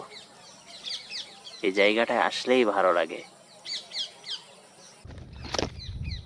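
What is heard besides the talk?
many parrots calling in a mango tree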